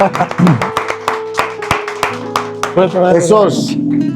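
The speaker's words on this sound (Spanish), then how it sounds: "Esos aplausos que se escuchan de fondo, pues no son grabados." Residents of a rescue house applaud live in the background while someone speaks over them, scattered hand claps running under the talk.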